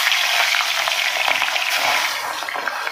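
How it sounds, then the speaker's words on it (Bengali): Small hilsa fish frying in hot oil, a loud, continuous close-up crackle and sizzle that holds steady and eases slightly toward the end. "মাছগুলো আমি খুব বেশি ভাজবো না, ইলিশ মাছ খুব বেশি ভাজলে স্বাদ লাগে না।"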